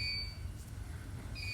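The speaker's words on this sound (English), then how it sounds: "Timer." A medical timer beeping, two high steady tones at the start and end of a short stretch over a low hum.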